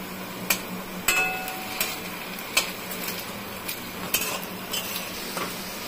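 Taro pieces fry with salt and turmeric under a constant sizzle, broken by sharp metallic clinks and scrapes of a spatula against the pan at irregular intervals.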